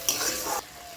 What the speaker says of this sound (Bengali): এখন পটলগুলো আমি ছেড়ে দিচ্ছি। ভালো করে নাড়াচাড়া করে কষিয়ে নিলাম।